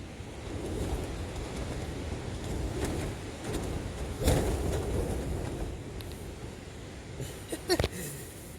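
Storm Ashley's gusts buffet a Helm 1 tent pitched as a wild camp at Blea Tarn, a steady roaring wash of wind with fabric flapping and heavier gusts near the middle and end, close and continuous.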